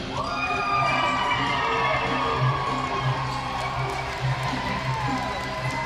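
A live independent wrestling crowd cheers and shouts loudly, sustained roaring voices and whoops with occasional rises, filling the space without pause.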